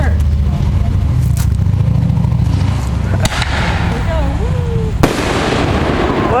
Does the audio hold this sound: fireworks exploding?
yes